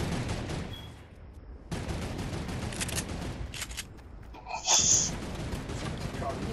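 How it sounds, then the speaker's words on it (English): Sustained bursts of gunfire from a shooter video game rattle through the clip, dense and fairly loud, with a brief lull before the shooting resumes and a sharper crack near the end, while players talk over it. "You don't hear this man sitting up here shooting the whole damn time"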